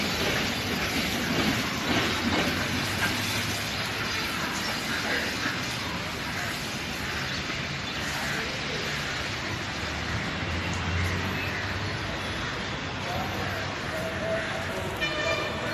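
A train rolls past near a bridge in Colombo, a steady broadband rumble of wheels and cars running the whole time at moderate distance, with street ambience mixed in.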